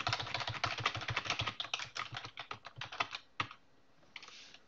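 Fast, steady typing on a computer keyboard during record indexing, a dense run of crisp close key clicks that thins out toward the end and stops, with no voices.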